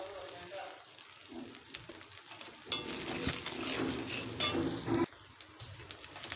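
Spices with salt and turmeric frying and being stirred in a pan for a Bengali rui posto fish dish, with steady close sizzling and scraping strokes that grow louder midway, then ease off; no talking.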